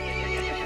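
A horse in the video game Resident Evil Village lets out a short, loud, close whinny that fills the moment, with no speech over it.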